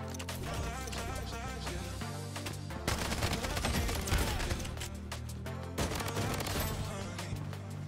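Sustained gunfire from the Bloodstrike video game sits within a dense, loud mix of game music and effects, continuing steadily with bursts swelling partway through.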